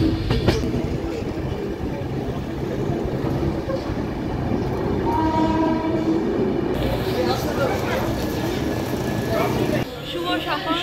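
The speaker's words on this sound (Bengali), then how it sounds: "এখন আমাদের ট্রেন ঢুকছে শিলিগুড়ি জাংশন।" Kanchan Kanya Express rolling into Siliguri Junction, a continuous loud rumble of rail wagons with rhythmic clatter and squeal heard from onboard, with voices faintly mixed in.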